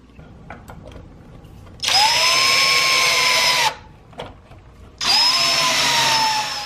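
A power drill drives screws into a wooden kids' table, two sustained close whirring bursts of about two seconds each with a short quiet gap between them.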